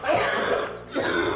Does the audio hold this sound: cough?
yes